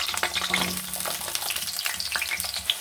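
Potato pieces fry in hot oil with a steady, close crackling sizzle, with occasional sharper pops and the scrape of stirring throughout.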